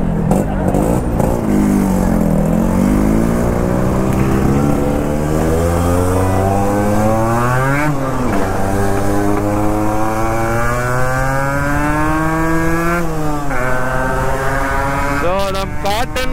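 A Yamaha RXZ motorcycle on a test ride revs up in long rising pitches, drops briefly as it shifts gears, then climbs again. The engine sounds loud and close the whole time.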